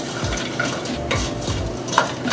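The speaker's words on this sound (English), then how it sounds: "So I'll mix this all together." Beef pie filling mixed in a pan, a close, moderately loud soft scraping and stirring over a low sizzle, with a few light utensil knocks against the pan.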